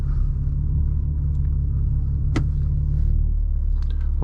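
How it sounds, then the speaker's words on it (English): Cars pass along a roadside as a 2024 BMW M4 Competition xDrive sits parked, heard as a steady low road rumble with one brief sharper swell of a passing vehicle, no talking. "wait for those cars to go by"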